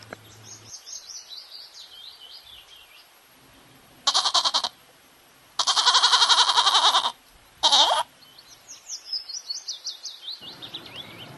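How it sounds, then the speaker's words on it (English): A goat bleats in three loud, wavering cries, the middle one longest, with birds chirping softly before and after. "G for goat."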